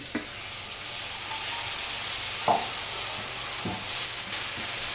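Blended tomatoes sizzle steadily in a cooking pot for a beef and okra stew, a constant close frying hiss broken by a few soft knocks of stirring.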